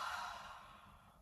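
A single breathy huff, exhaled close to the microphone during a floor-mat balance and bone-strengthening workout, fading gradually over about a second.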